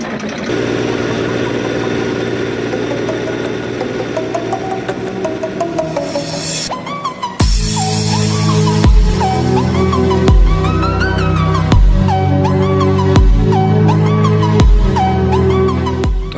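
A tractor engine idles as it warms up, a steady low mechanical drone with a harmonic hum. Partway through, a sharper rhythmic thumping pulse joins in and repeats at regular intervals, loud and close.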